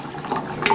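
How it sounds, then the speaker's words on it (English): Boiling water poured into a container for sinus detox tea, a short steady splashing fill at moderate loudness with no talk. "I'm going to fill it up with 2 cups of boiling water."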